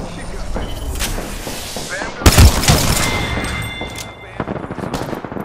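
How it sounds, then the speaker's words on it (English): Gunfire in the video game Apex Legends, likely a double P2020 pistol setup, with rapid dense shots and a loud burst near the middle, heard under game sounds and voices. "Shots fired."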